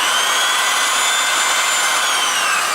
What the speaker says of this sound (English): you can use a mixer on a drill